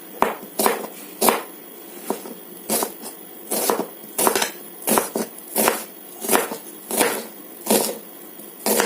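Knife chopping ridge gourd on a cutting board in a home kitchen, a steady series of crisp close taps, roughly one per second, with no one speaking.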